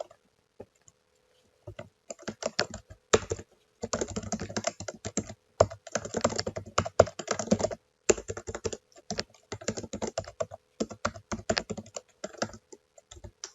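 Typing on a computer keyboard comes through as bursts of quick, close key clicks and taps, fast runs broken by short pauses, with no voices heard.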